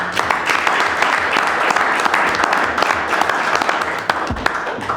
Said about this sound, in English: We're going to applaud for you.